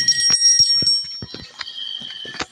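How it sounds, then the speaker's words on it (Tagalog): Bell ringing in the horror video game Granny, with sustained bright metallic tones and several short thuds and knocks scattered through it, close and fairly loud. "Yun yung bell, oh."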